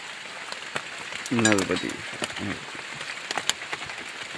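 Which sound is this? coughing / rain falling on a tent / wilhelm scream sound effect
rain falling on a tent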